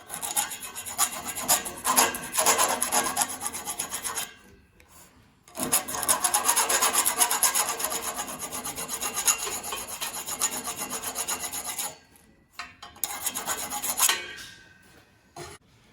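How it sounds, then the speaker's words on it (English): Hand file rasping across a drilled motor coupling shaft to clear burrs, steady back-and-forth strokes in bursts with two short pauses, close and fairly loud, no talking. "File the burr left from drilling the holes."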